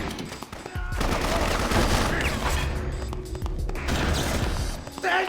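Dense, continuous gunfire from two guns fired at once in the action game Bloodrayne: ReVamped, a loud rapid barrage of shots with thuds and crashes mixed in, lasting throughout with no talk.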